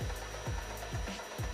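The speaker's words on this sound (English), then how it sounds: "it took a lot of sanding to remove just a millimeter of material" Rhythmic hand sanding on wooden puzzle pieces, four steady rasping strokes at an even pace, close up and fairly loud with no talking.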